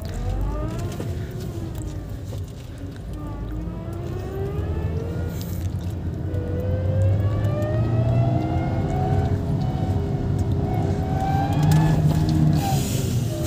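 A Hyundai i20 car driven at top speed in reverse, its engine and transmission producing a loud sustained whine that rises in pitch over a steady road roar, with no talk over it.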